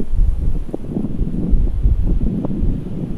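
Wind gusting through a graveyard at night, a steady low rumbling buffet against the microphone, loud and close, with faint rustling beneath and no talk.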